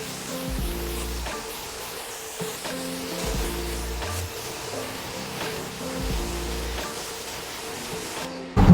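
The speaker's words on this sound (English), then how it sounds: "now we'll go ahead and rinse down the vehicle" Water from a hose or pressure sprayer rinses down a black car in a steady hissing spray, with a low rhythmic pump or motor hum pulsing underneath throughout.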